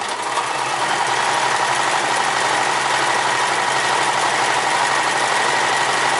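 A Sears Kenmore 158 series sewing machine runs steadily while stitching a 3-point zigzag, its loud continuous motor whir and rapid needle chatter holding an even rhythm up close, with no pauses or voices.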